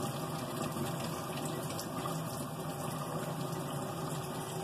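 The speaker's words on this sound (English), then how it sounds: "Starting the cleaning cycle. There, the water running. See? Squirting out." A LeveLuk K8 water filter machine runs its cleaning cycle, water squirting out in a steady, continuous gushing rush with a faint pump hum beneath, close and unbroken throughout.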